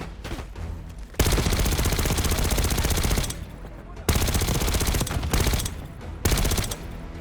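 Rapid automatic gunfire in Call of Duty Black Ops 6 bursts loudly in long sustained volleys, with short pauses between bursts and some quieter shots in between.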